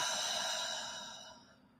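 Deep breath during a guided meditation, a long airy exhale, soft and close, fading out gradually toward silence.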